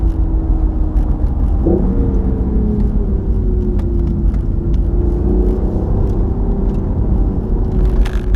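A 2016 BMW i8 hybrid supercar driving through a bend on a road, with a loud, steady engine drone and road rumble heard from inside the car and a slight rise in pitch partway through, alone without talk.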